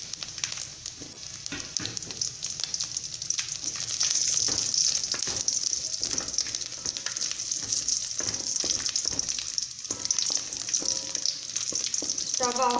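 Raisins sizzle and crackle steadily in a hot pan while making jackfruit payasam, a constant bright frying hiss with occasional stirring scrapes, close and moderately loud with no talk.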